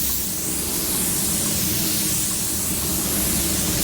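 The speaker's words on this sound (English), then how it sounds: "They definitely need more air pressure to spray appropriately" A Porphis PRD-717 split-tip nozzle spraying paint with compressed air at low pressure makes a steady, loud, continuous hiss, close and unbroken, with no talk.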